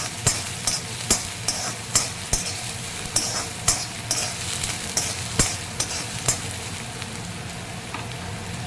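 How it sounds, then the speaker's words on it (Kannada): Onion, green chilli and garlic frying in an iron pan on a high flame for vegetable Manchurian, a loud close sizzle punctuated by regular scraping stirs about once a second, with no talk. "ಇದಕ್ಕೆ ನಾನು ಸ್ವಲ್ಪ ಈರುಳ್ಳಿ, ಚಿಕ್ಕದಾಗಿ ಎತ್ಕೊಂಡಿರೋ ಈರುಳ್ಳಿ, ಒಂದು ಸ್ವಲ್ಪ ಹಸಿಮೆಣ್ಸಿನ್ಕಾಯಿ, ಒಂದು ಸ್ವಲ್ಪ ಬೆಳ್ಳುಳ್ಳಿ ಹಾಕಿ ಸ್ವಲ್ಪ ಚೆನ್ನಾಗಿ ಫ್ರೈ ಮಾಡ್ಕೊಂಬಿಡ್ತೀನಿ ಹೈ ಫ್ಲೇಮಲ್ಲಿ."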